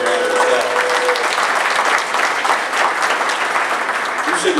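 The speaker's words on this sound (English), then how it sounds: "Let's give it a round of applause." Sustained applause fills a room at the 2015 TSU-PVAMU Labor Day Classic luncheon, a dense, steady clapping from a crowd lasting several seconds before tapering off.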